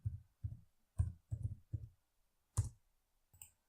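Computer keyboard typing: a short run of distinct, close key clicks in an uneven rhythm, about eight taps over a few seconds with brief pauses, and no talking.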